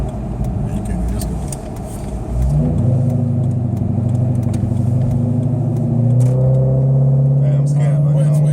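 A car accelerates hard with its engine note rising and droning loudly throughout, shifting pitch partway through, while people talk inside the cabin over it.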